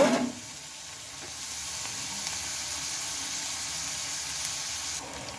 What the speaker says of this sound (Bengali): তো পেঁয়াজগুলো একটু লাল লাল করে ভেজে নেব